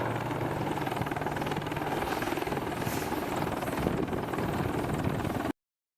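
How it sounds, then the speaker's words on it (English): An AH-64 Apache attack helicopter of the Malaysian forces flies with a steady, dense rotor and engine drone that holds at even loudness before cutting off abruptly. "The helicopter was purpose-built to fly low to the ground and hide whenever possible to avoid hostile radar detection"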